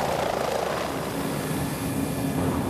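A helicopter flies over polar shipping lanes, its rotor and engine making a steady, loud, continuous drone with no voices.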